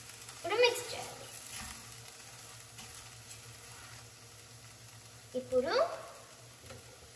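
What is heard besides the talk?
stirring taro leaves and tomato curry frying in pan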